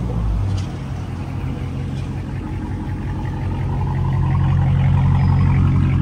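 A Dodge Challenger R/T engine with loud quad-tip exhaust idles with a deep, steady exhaust rumble close by, swelling slightly louder toward the end.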